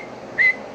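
A short whistle into a ham radio microphone, heard as a single brief tone lasting about a tenth of a second that rises over low background hiss.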